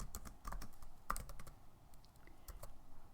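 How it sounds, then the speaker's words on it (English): Rapid, uneven clicking of keys on a computer keyboard, close and fairly quiet, with a couple of harder taps mixed in. "So I'm typing those in, those special codes."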